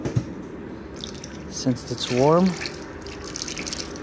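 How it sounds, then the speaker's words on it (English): Warm waste vegetable oil pours into a container in winter with a close, wet gurgling and trickling that swells briefly, heard under a man's speech. "Okay, I'm gonna pour the oil in there."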